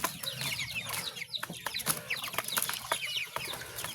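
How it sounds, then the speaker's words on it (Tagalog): Many chickens cluck and chatter busily up close while being fed, overlapping short calls with rustling, a lively continuous flock sound without talk. "ngayon pinapakain na namin yung alaga namin manok"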